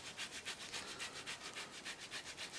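Potato or avocado rubbed against a kitchen grater for soft flatbread dough, making a steady run of rhythmic rasping strokes, about five per second, close and fairly loud with no talk.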